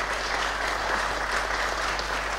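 Audience applause at a memorial gathering held 27 December 2016 in remembrance of A. Broccolo: a steady, dense wash of clapping from a crowd, fairly even in loudness throughout, with no talk over it.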